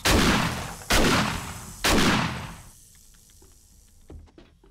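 Three loud, close shotgun blasts in the video game 7 Days to Die, evenly spaced about a second apart, each ringing out before fading into quieter clicks and handling noises.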